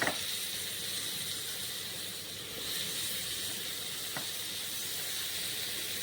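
Tomatoes dropped into a hot pan of frying aromatics in a Kerala-style preparation give a steady, loud sizzling hiss that holds evenly throughout, with a faint clink near the end.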